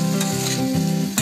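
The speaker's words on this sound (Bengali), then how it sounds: "এইগুলোকে ভালোভাবে নাড়াচাড়া করে নিতে হবে।" Bottle gourd pieces with salt and turmeric being stirred in a frying pan, a loud close sizzle with a spatula scraping through it in a short continuous burst.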